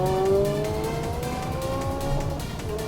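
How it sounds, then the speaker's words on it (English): A Nissan GT-R races hard through a track's infield section, its engine note climbing and falling steadily under continuous road and tire noise, loud and close throughout. "The GTR is quick through the infield section."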